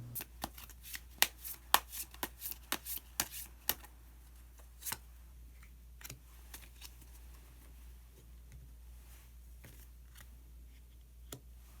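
Tarot cards are shuffled and drawn by hand, giving a quick run of crisp card flicks and snaps early on that thins to a few isolated sharp taps over a low steady hum, close up, with no talk.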